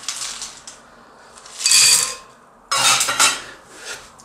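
Crushed ice tumbles into a blender jar in two loud bursts of clattering, rattling pieces, with brief quieter shuffling between them.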